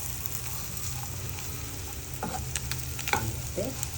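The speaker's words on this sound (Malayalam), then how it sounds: "എടുത്ത് വെച്ചിരിക്കുന്ന ചെമ്മീൻ ചേർക്കുക. നന്നായിട്ട് ഇളക്കി യോജിപ്പിക്കുക." Prawns frying for a pickle, a steady hiss of oil in the pan and a burst of spoon scrapes and clinks toward the end as they are stirred.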